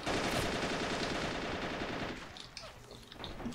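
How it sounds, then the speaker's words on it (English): An MG34 machine gun fires sustained, rapid automatic bursts in the Men of War Valkyrie mod, loud and dense at first, then thinning into scattered shots and distant crackle. "Brandenburg MG34 doing a lot of damage"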